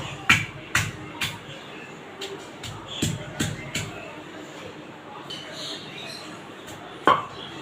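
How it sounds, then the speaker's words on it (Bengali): Chicken meat is pounded flat with repeated dull thumps in an uneven rhythm, close and fairly loud, with muffled voices and light kitchen clatter in the background. "আর আমি এগুলো একটু এরকম করে কুতা দিয়ে থেতলে নেব"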